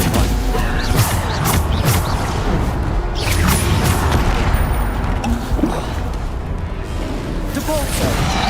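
Dense, continuous spell combat in Hogwarts Legacy, with the Bombarda explosion spell among repeated booms and crashes that are heavy and loud throughout, blended with game effects and occasional voices.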